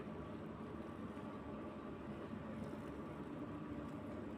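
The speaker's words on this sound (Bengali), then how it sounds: "দেখুন ফুলের বাগান থেকে রাজধানী এক্সপ্রেস কিভাবে যাচ্ছে" A Rajdhani Express train passing a flower garden at Khirai: a faint, steady low rumble that continues unbroken throughout, heard from a distance with no voices.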